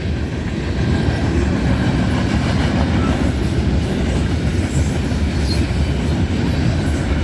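A grain freight train rolls past at night with a rear DPU locomotive, a loud continuous rumble and clatter of wheels on rails, close by and steady throughout.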